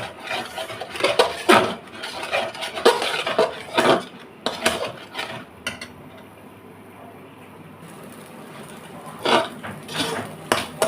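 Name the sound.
stirring egg halwa in a pan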